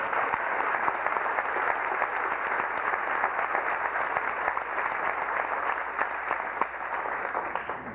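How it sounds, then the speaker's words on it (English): Sustained applause from a sizable crowd at a piano recital, steady and dense clapping throughout with no break, fairly loud and close. "I'd like to give them a round of applause."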